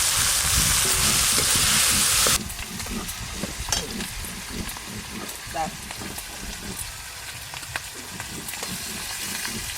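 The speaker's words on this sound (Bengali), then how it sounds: "ওই মাছ ভাজার তেলে পেঁয়াজ কলিগুলো হালকা করে ভেজে নেব" Spring onion stalks frying in hot oil left over from frying fish: a loud, dense sizzle for the first couple of seconds, then a softer crackle broken by scraping and stirring clatter.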